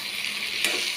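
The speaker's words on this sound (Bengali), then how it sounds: "আলু পটল ভাজা হচ্ছে" Steady, bright sizzling of potatoes and pointed gourd frying in a pan, a continuous close hiss with a slight swell partway through and no voices.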